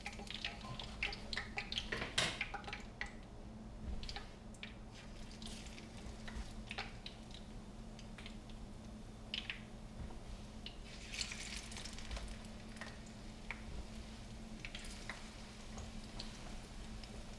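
Plantains fry in a pan over a low flame with a soft, steady sizzle, marked by scattered pops and crackles and a few sharper clicks from stirring.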